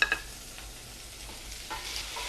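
Tomatoes sautéing in a pan for sambar, a quiet steady sizzle with a couple of stirring scrapes, brief and close.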